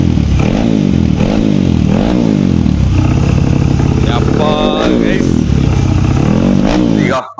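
A Yamaha RX two-stroke motorcycle on its stock original exhaust runs loud and close, its engine revving in repeated rising bursts over a steady rumble, while people talk over it.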